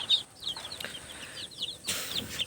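Native chickens and their tiny chicks peep and cluck in short, high bursts, several calls scattered across the moment, close by and fairly clear over a quiet farmyard background.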